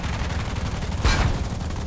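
The machine guns of a P-47D Thunderbolt in War Thunder fire a short, loud burst over a steady, roaring engine drone.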